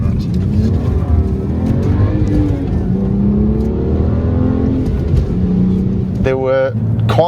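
Naturally aspirated BMW 130i engine holding steady revs, with rising harmonic sweeps as it pulls through long gear ratios and the revs dropping on each shift, under continuous talking.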